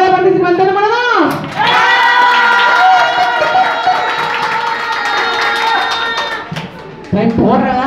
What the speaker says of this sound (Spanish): Quiero aplausos, porras, gritos, cumplidos a su favorita